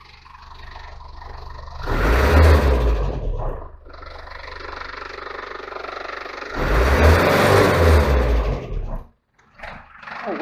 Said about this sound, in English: Oh wow, she's actually revving freely.